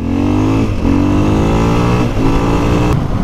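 A 2020 KTM 500 EXC-F dirt bike engine revs loud and close, its pitch climbing and falling in three quick pulls with brief dips between them, and no voices.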